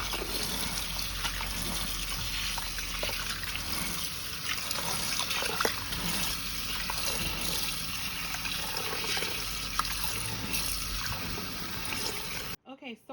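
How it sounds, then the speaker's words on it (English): Lentils being rinsed under running kitchen tap water, a steady close trickle and splash lasting throughout, with faint movement and handling noises mixed in. "I'm just going to give these a quick rinse"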